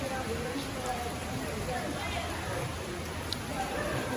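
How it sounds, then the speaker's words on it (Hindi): Heavy rain falls outside during a cold, overcast day, a continuous broadband hiss of drops on surfaces that is steady and fairly close, with a person's voice faintly underneath. "आकाश बारिश से भरा पड़ा है।"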